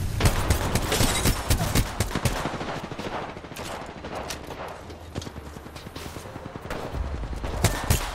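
Heavy, sustained gunfire in a video game shootout, rapid overlapping shots loud and close throughout, with little break.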